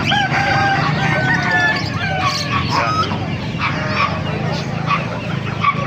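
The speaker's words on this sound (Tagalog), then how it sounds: "may mga bibi rito maliliit mga kamaster. Ito na mga bibi, mga peking duck." Small Pekin ducklings at a market in Calumpit peep in rapid, overlapping high calls against a busy background murmur, close and fairly loud.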